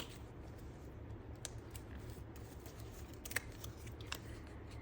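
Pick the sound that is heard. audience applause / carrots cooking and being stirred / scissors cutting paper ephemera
scissors cutting paper ephemera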